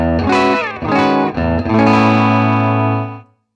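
Ibanez Tube Screamer TSA5TVR tube guitar amplifier through its 8-inch Gibson speaker, playing a few loud sustained electric guitar chords with slight grit and a short decaying tail, with no talking.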